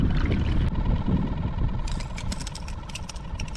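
A kayak paddles along on shallow water near oyster bars, with soft low sloshing and gentle water movement, then a series of light, splashy paddle strokes and drips close by.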